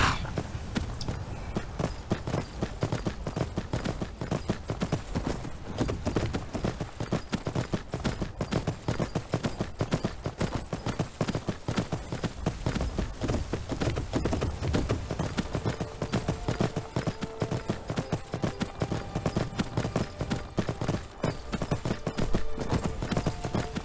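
A horse in the video game Skyrim gallops with rapid, rhythmic hoofbeats, continuous and close for the whole stretch, drumming loudly with a little background game ambience.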